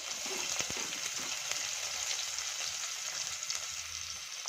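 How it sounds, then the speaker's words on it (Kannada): Chopped onion fries in a pan for a quick breakfast dish, giving a steady, soft sizzle and crackle throughout, fairly close but low in level, with no talking. "ಚೆನ್ನಾಗಿ ಇದನ್ನು ಕೂಡ ಫ್ರೈ ಮಾಡ್ಕೊಳ್ಳೋಣ ಸ್ವಲ್ಪ ಕಲರ್ ಚೇಂಜ್ ಆಗಲಿ"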